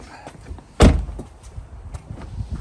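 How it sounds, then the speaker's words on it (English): A Tesla car door shuts once with a single firm thud, close by, followed by quieter interior rustles and faint bumps. "Start the show, exit the car, shut all doors."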